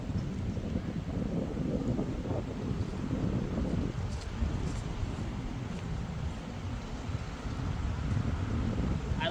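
Strong, steady wind buffets the microphone outdoors on a disc golf course, a dense low roar that swells and eases slightly over several seconds, with no talking.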